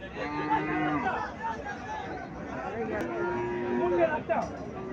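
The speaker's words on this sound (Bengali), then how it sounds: "গাবি দেখা যাচ্ছে" Cows at a village cattle market in Comilla, Bangladesh, lowing in drawn-out moos near and at a distance, under steady crowd chatter and someone talking.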